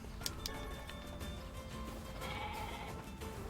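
Goats in the Nier Replicant video game bleat repeatedly over a steady background of game ambience and faint ticking, with no talk.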